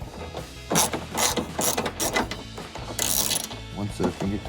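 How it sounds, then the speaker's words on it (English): A ratchet and socket work loose the headlight bolts on a 2003-2005 RAM 2500 pickup, giving close, crisp bursts of ratcheting clicks in irregular runs, with a voice talking faintly in between. "We take our ratchet and socket here to the front."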